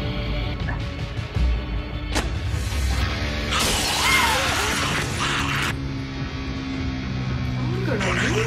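Glass shatters with a bright crash in a zombie-apocalypse TV drama, heard through playback mixed with other scene sounds and mechanical clatter, moderately loud.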